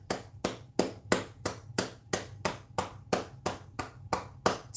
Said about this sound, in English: Now let's clap again. 2 more.